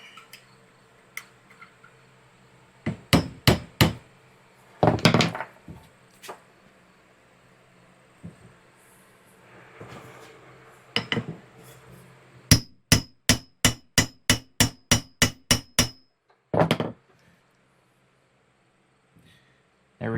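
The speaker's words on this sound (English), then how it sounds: "Just tap it right on the snap ring, and that jarring pushed our bearing cap down" Sharp metallic taps of a socket being driven onto a PTO shaft snap ring to seat a bearing cap: scattered single and paired strikes, then a quick steady run of about ten close, loud raps, with quiet gaps between and no talking.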